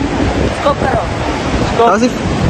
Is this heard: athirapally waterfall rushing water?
yes